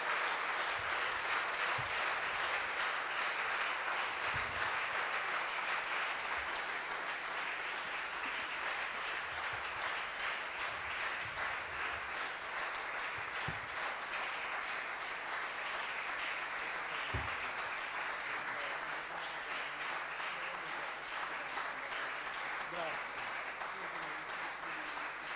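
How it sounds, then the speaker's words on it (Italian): An audience applauds Dr. Raffaele Cantone at an event in Ravenna with steady, dense clapping that keeps an even loudness for the whole stretch, and no voices stand out above it. "il dottor Cantone meriti un grande applauso"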